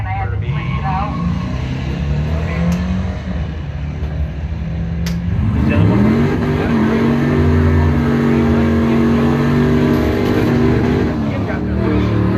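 Drag racing cars roar at the 2020 Mopars Against the World Pro Systems bracket, their engines droning loudly and climbing in pitch as they launch down the strip, with voices talking over the din.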